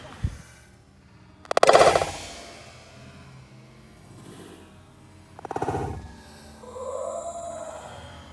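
A coconut is banged against a tree to split it open outdoors at a Hawaiian ranch beach, giving two sharp, loud knocks several seconds apart amid quiet outdoor ambience.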